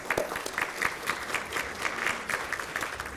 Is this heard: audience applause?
yes